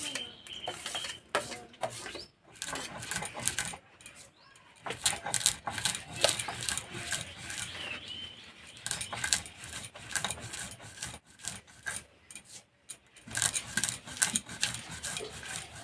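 Cooled roasted chickpea lentils and seeds are ground into a coarse powder for protein-rich naru, giving dense clattering and rattling in irregular bursts with brief pauses, close and fairly quiet, with no speech.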